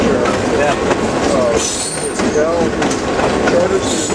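A train rumbles past with rhythmic clacking wheels and a few high metallic squeals, loud and close, with no voices over it.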